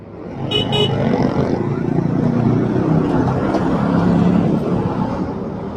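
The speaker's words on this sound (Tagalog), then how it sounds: "Traffic." Road traffic of cars and motorcycles rumbles steadily nearby as a rider moves through it, with a short double horn toot near the start over continuous engine and road noise.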